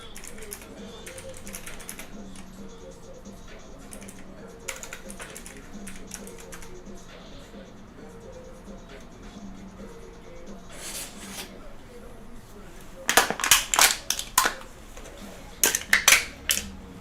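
Keys on a computer keyboard and numpad are tapped in scattered light clicks, then a fast, loud flurry of clattering keystrokes near the end, with speech at times in the background.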